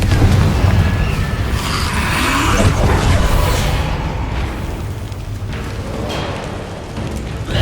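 Loud fire-spell blasts and booming explosions from a Hogwarts Legacy battle, dense rumbling bursts stacking over several seconds with crackling debris and a sweeping whoosh, no talking.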